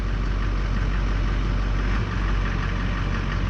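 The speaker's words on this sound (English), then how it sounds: "if you listen to the idle, there was a idle spike right there, and there again it spiked" A 2004 Chevy 3500 with a Duramax diesel engine idles in a steady, loud, low rumble that runs the whole time, with a brief swell near the middle.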